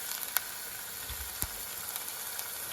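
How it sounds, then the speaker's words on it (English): Food sautes in hot oil in a pan, giving a steady close sizzle with a couple of faint clicks from a utensil and no voices. "So we'll saute those up real nice."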